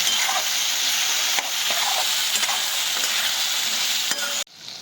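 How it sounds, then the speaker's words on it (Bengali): Spice masala with Kashmiri chilli powder stir-fries for a vegetarian papaya and potato dalna, a loud close crackling sizzle with occasional stirring knocks before it abruptly quiets. "দিয়ে দিলাম একটু কাশ্মীরি লঙ্কা গুঁড়ো এটা নেড়ে চেড়ে আমি মশলাটাকে ভালো করে কষিয়ে নেব"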